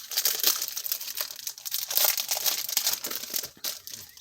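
Printed papers or cardstock from a craft haul being handled, with loud close crinkling and rustling that runs continuously in uneven bursts with no talk.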